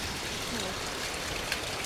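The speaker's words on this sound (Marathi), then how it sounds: "छोटीसा झरा म्हणता येईल झऱ्याचं पाणी थोडंसं रिस्की आहे" A small stream flows near a waterfall as a dense, steady rush of water, loud and close, with a continuous broadband wash and no clear voices.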